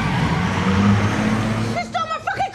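A car engine roars loudly up close, revving and surging as the vehicle pulls away in a scene set at a taco stand; excited shouting cuts in near the end.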